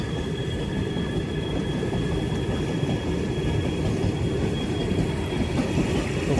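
A train rolls past close by, its continuous heavy rumble and rattling wheels holding steady throughout with no voices.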